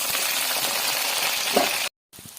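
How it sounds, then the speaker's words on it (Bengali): Cut eggplant pieces fry in a hot pan with a steady, even hiss of sizzling oil that runs for nearly two seconds, drops out briefly, then resumes more faintly. "বেগুন কেটেছি, এই বেগুনটা দিলাম। এটাকে আবার একটু ভেজে নিই।"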